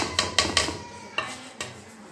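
A spoon mixes onion, tomato, chili and gram flour into pakora batter in a bowl, knocking and clinking against the sides a few times with wet stirring between strokes.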